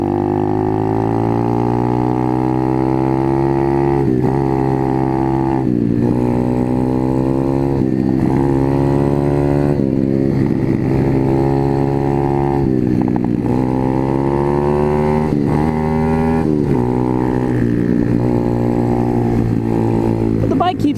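The engine of an Apollo RFZ pit/dirt bike drones loudly and close during a ride, its pitch rising and falling as the throttle shifts, without a break.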